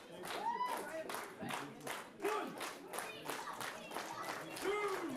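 A wrestling crowd claps in rhythmic unison in support of Aurora Tevez at a Slam Jam 2021 event, sharp regular claps under a commentator's voice.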